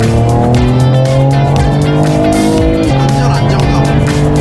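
A Mercedes-AMG E53 (W213 facelift) mild-hybrid accelerates in Sport mode, the engine humming steadily with stepped rising tones under continuous in-cabin talk.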